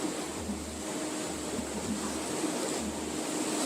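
Ocean waves wash steadily onto a beach in Huatulco, Mexico, a continuous broad rushing surf with faint swells of rolling low rumble and some wind, no voices.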